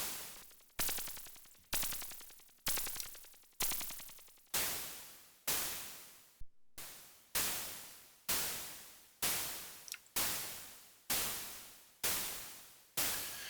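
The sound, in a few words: synthesized hi-hat white noise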